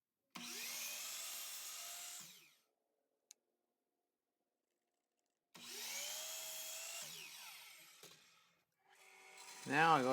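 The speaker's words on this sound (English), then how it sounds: "Now I go to the bandsaw and I'm cutting these brackets out" Bandsaw cutting out small wooden brackets: two separate cuts, each a sustained whining buzz that starts abruptly and winds down, separated by a silent gap with a single tick, then a rougher rising noise at the end.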